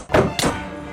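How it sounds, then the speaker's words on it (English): An orbital strike cannon fires in a video game: two sharp, booming blasts a fraction of a second apart, each with a short fading tail, and no voices. "Orbital strike cannon fire!"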